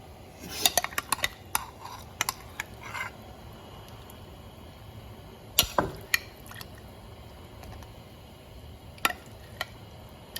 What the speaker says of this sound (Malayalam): മീനിടുവാണ് കേട്ടോ